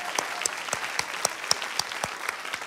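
A studio audience on the Spanish antiques show Anticuarios claps for Tomasita Kiala, a sparse, steady patter of separate sharp claps from a small group, fairly quiet and without voices.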